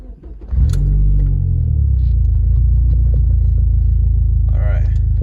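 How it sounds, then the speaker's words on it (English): A Dodge SRT-4 with a manual transmission drives along, its engine a loud, steady low rumble that holds through the clip. A brief voice is heard near the end. "manual transmission, shifting gears."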